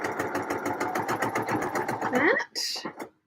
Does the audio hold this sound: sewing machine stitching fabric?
yes